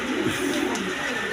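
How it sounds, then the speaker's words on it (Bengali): Big farm pigeons cooing in a steady, close, dense murmur, with no talk over it. "কবুতরগুলো দেখেন একদম বিগ সাইজের"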